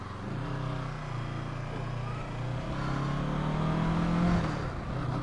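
A car approaches and passes on the road, its engine and tire noise rising to a peak and then fading, heard steadily with no talking.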